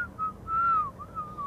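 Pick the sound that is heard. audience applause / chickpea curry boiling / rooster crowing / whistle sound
whistle sound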